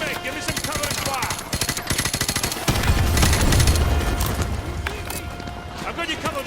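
Rapid automatic gunfire bursts crackle in Call of Duty: Modern Warfare 2 Remastered, then a louder rumbling blast and continued shots, with game voices talking over the action.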